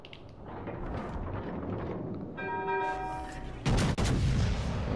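Naval ship guns fire shells during a sea battle video game, with heavy booming blasts and a ringing metallic tone, ending in two sharp loud reports over a continuous low rumble.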